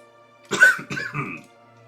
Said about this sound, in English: Nice dry cough.